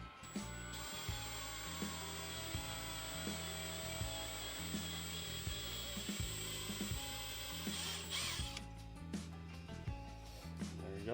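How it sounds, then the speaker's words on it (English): A power drill with a 7/16 bit whines steadily with a pulsing rhythmic grind as the bit bites into metal on a Chevrolet Silverado turbo build, then slows and winds down near the end. "What you're gonna wanna use is a 7/16 drill bit. Drill it out a little bit."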